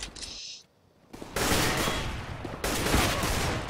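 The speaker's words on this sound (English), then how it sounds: "Running and gunning with the P90." P90 submachine gun firing in Counter-Strike: Global Offensive, loud sustained automatic bursts after a brief lull, continuous rattling fire filling the clip with no talk.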